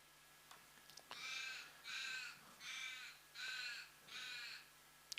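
Crows near a croquet lawn during a golf croquet match give five loud, evenly spaced harsh caws, clear over a quiet outdoor background with a few soft knocks at the edges.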